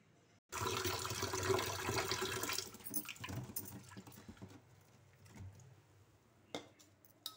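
Drinking water pours into a pot in a brief, steady gush that tapers off into softer trickles and a few drips, with light clatter near the end.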